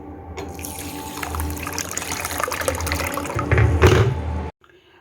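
Water poured onto raw regular rice to soak it makes a steady, close splashing rush that swells toward the end, then cuts off abruptly, with no voices.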